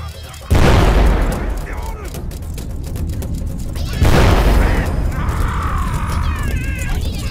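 Explosions in the video game Mini Ninjas during a volcanic eruption level: two loud booms a few seconds apart, each decaying into a rumbling roar, with someone talking over the action.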